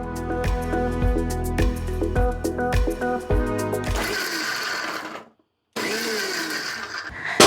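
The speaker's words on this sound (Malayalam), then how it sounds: "ഇതെല്ലാം കൂടി ചേർത്തിട്ട് മിക്സിയിൽ വെച്ചിട്ട് ഭയങ്കര ഫൈനായിട്ട് അരയ്ക്കേണ്ട" A mixer grinder coarsely crushing spices pulses in short rhythmic bursts, then runs continuously with a loud whirring roar, stops briefly, and starts up again.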